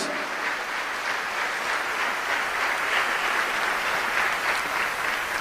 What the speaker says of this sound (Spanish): Otro aplauso también.